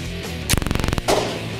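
Movie prop guns fired at a private shooting range, a sharp blast followed by a rapid burst of about eight evenly spaced shots, then another loud report, close and loud with no talking.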